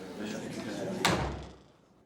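A door shuts with a sudden firm thud before a court hearing, preceded by background murmur of voices in the room, the sound decaying quickly into quiet.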